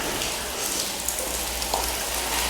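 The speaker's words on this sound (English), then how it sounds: "Let's try to get around this rainstorm." Heavy rain during an e-bike ride, a dense, steady hiss of drops pattering on surfaces around, loud and close, with a low rumble underneath and no voices.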